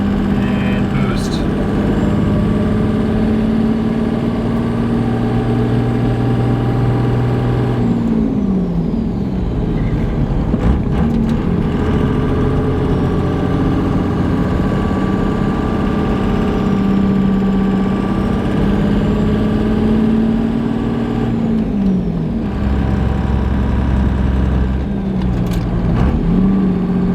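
A 3-linked 1-ton Toyota Land Cruiser engine drones steadily at highway speed, with a deep continuous hum and rising and falling tonal shifts as the revs change under boost.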